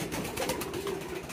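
Damascene pigeons kept indoors give a brief, faint, low coo against a steady background hum.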